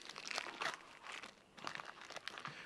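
A plastic package of smoked sausages is cut open and handled, close crinkling and crunching of the film in short bursts over about three seconds, no talking.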